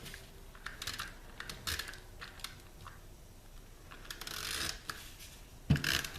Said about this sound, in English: A little bit more snail adhesive.